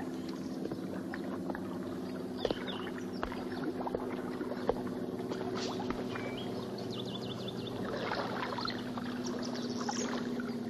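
A barge moving through water, with a low steady engine hum and scattered splashes and knocks over a continuous wash.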